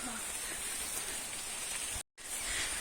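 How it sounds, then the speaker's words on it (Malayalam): Steady rain falls on a rural village path, a dense even hiss that runs throughout with one brief dropout near the end; no voices are heard. "നല്ല മഴയും പെയ്യുന്നുണ്ട്"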